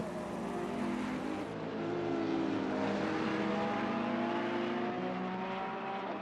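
Ferrari and Porsche race cars lap Zolder in a sim racing game, their engines a loud, continuous high-revving drone whose pitch climbs and shifts as the cars accelerate through the corners.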